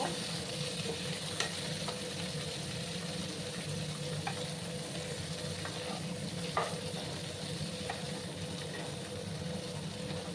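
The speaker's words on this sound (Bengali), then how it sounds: "সমস্ত ভেন্ডিগুলো আমি দিয়ে দিলাম। ভালো করে আমি মিশিয়ে নেব।" Okra stirred through a hot pan, a steady dense sizzle of frying running throughout with occasional soft scrapes and clicks of the spoon, close and continuous with no voices.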